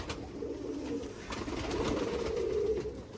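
Pigeons resting after a flight give soft, low throaty coos, repeated several times close by over a light outdoor background, with no voices.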